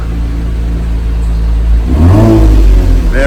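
A 2020 Toyota Camry TRD engine revs up loudly indoors, rising into a deep throaty roar with a rumbling idle before it.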